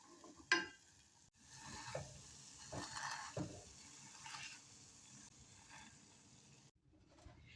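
A spoon stirs thick mashed beans loosened with vegetable stock in a pan, giving soft, quiet wet scraping and squelching with a sharp clack near the start, faint and close with no voices.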